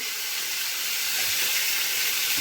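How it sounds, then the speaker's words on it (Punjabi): Cut lemons sizzling in very hot oil in a kadai while a pickle is made: a steady, close, bright hiss that holds evenly throughout, with faint low bumps beneath. "ਜਿਹੜੇ ਆਪਾਂ ਨਿੰਬੂ ਕੱਟੇ ਸੀਗੇ ਉਹ ਨਿੰਬੂ ਆਪਾਂ ਤੇਲ ਦੇ ਵਿੱਚ ਪਾ ਦਿੱਤੇ ਆ"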